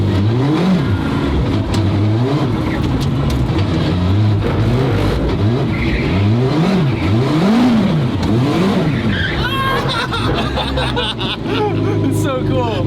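A McLaren GT3 race car's engine fires up and revs in a series of rising and falling surges, loud and close, with crowd chatter and voices mixed throughout.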